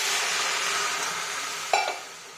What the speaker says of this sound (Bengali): এর মধ্যে একটু জল ঢেলে দেব